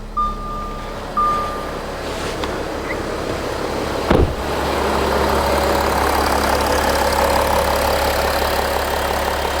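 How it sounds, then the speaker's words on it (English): An Audi Q7 engine idling after an oil cooler replacement gives a steady, low mechanical hum throughout. A few faint tones come early and a brief thump falls near the middle. "So as you can hear, the engine is running."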